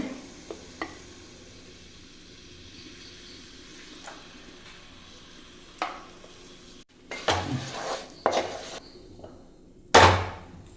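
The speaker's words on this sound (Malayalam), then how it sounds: "ഇനി നന്നായിട്ടൊന്ന് മിക്സ് ചെയ്യാം ഞാനൊരു മൂന്ന് സ്പൂണ് വിനാഗിരിയും കൂടെ ചേർത്ത് കൊടുക്കുകയാണ്" Lemon pickle being stirred in a pan with vinegar added, making quiet scraping and soft sizzling, with a few sharper clinks of a spoon against the pan near the end.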